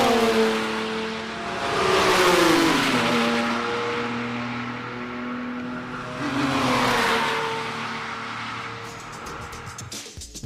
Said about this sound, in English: was there a difference in the sound of the classic early V12s from the newer engines?